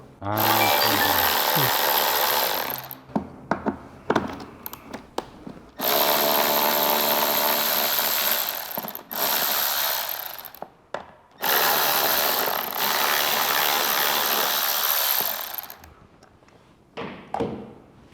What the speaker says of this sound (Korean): 그 다음에 10mm 두 개를 풀어주시면 돼요. 코일 고정 볼트.